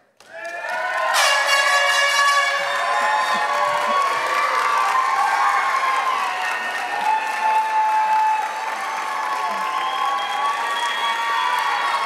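A large audience at a nursing college graduation ceremony bursts into sustained applause mixed with whoops and shrill cheers, loud and continuous throughout.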